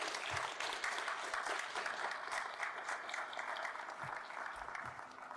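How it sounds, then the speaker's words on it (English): Sustained applause from an audience at a county council candidate forum, many hands clapping steadily and evenly for the candidates, with no talk over it. "Please, let's give them all a round of applause."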